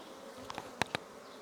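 A faint, low buzz of many honeybees droning close by in an open hive, broken by a few sharp little taps and knocks.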